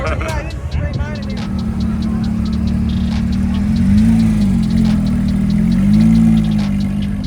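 A Chevrolet Corvette C8 Z06 idles at a car meet, its deep engine burble steady and close with slight rises in pitch, while people talk nearby.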